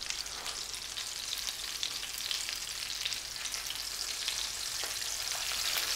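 Pork faggots sizzle steadily in a moderately hot frying pan, a continuous crackling hiss with small pops, no talking.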